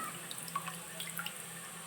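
Water being drained off hand-churned butter in a pot while making ghee, heard as faint, close, scattered drips and small trickles over quiet background.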